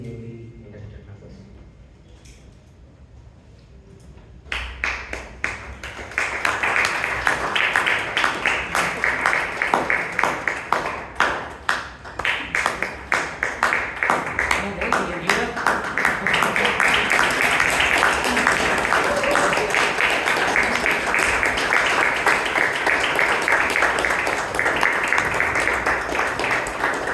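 Audience at a Bangalore Toastmasters club meeting applauding newly elected members: after a few quiet seconds with faint talk, clapping breaks out and swells into sustained, dense applause that carries on to the end.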